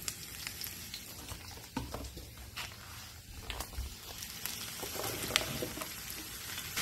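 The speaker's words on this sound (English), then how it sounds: "I hear our oil popping, so let's go ahead and add our shrimps." Shrimp frying in hot, popping oil, a steady close sizzle with scattered pops and crackles throughout, no talking.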